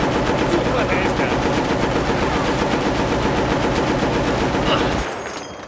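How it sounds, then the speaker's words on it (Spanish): Rapid automatic gunfire in the Battlefield Bad Company video game on Xbox One, a dense continuous loud burst lasting about five seconds before cutting off abruptly. "¡Necesito fuego de contención!"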